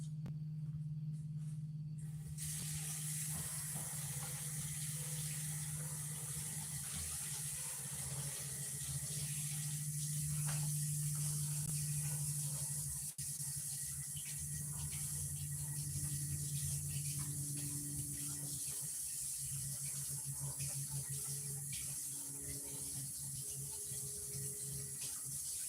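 Water runs steadily from a tap in a small bathroom, rinsing acid-washed stone. The hiss is faint and continuous for the whole stretch, with no voices.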